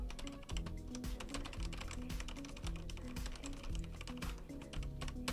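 Rapid, crisp key clicks from a computer keyboard in an irregular typing rhythm, close and clear with no voices.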